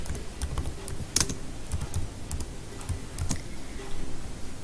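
Typing on a computer keyboard while entering new text into a word processing document, a steady stream of close, quick key clicks with occasional louder strokes, no talking.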